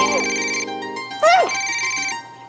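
A phone ringtone rings loud and close for an incoming call, a bright repeating electronic melody with a sharp chirping flourish partway through, then carrying on steadily throughout.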